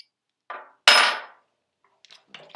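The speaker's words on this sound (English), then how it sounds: "Putting the mag into the gun sounds pretty awesome if you go quick" Magazine slapped into an Elite Force 1911 airsoft pistol: a soft click, then one sharp, loud metallic clack close by, followed by a few faint rattles.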